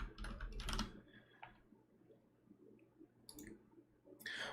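Typing on a computer keyboard comes as a few quick bursts of close, quiet key clicks separated by pauses, with no voices.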